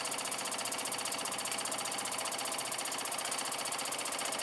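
A 1914 Meccano model steam engine running steadily, its fast, even mechanical clatter and rhythmic ticking repeating without pause at close range, with no voices.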